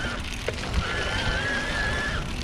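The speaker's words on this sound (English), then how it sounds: "there's a little bit of a whine that you hear in the background with the motor when it gets to those higher RPMs" A Haibike SDURO Trekking S 9.0 e-bike motor in turbo mode gives off a thin, steady whine that rises slightly and holds for about a second and a half, faint beneath rolling road and wind noise.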